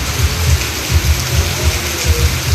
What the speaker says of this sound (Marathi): पाऊस बघा तिथे आहे.